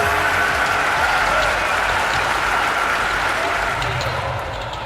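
Steady crowd applause fills an aquatic centre at a London 2012 Olympic swimming event in a video game, loud and continuous throughout before easing slightly at the end.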